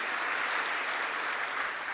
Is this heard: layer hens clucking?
no